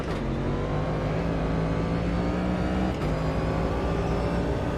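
Race car engine in Automobilista 2 during an IMSA series race at Virginia, roaring loud and continuous with steady harmonic drone and a quick shift around the middle, no voices.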